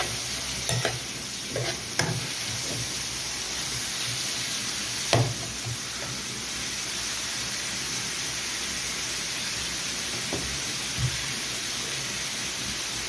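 Onions sizzle steadily in a pan while being stirred for a liver bhuna, a constant close frying hiss with occasional knocks and scrapes of the spoon, no voices.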